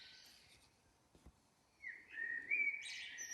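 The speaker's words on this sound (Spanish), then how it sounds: "y los pajaritos" Small forest birds chirp and twitter in short, bright calls, sparse at first and then a louder run of whistled tweets toward the end, with no other sound around them.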